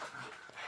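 A pug puppy panting while dogs play, quick faint breathy huffs with a slight whiny edge, brief and close.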